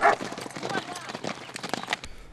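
Horses gallop along a trail in the mountains at Les Gets, hooves drumming in quick irregular beats close by, with a voice calling out over them.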